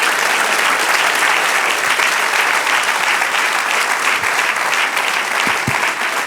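Loud, sustained applause from a church congregation fills the space, steady and dense from start to finish with no break.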